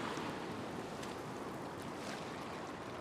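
Beach surf rolls in as a broad, steady wash of breaking waves with a constant roar and no voices, heard from the shoreline during beach fishing.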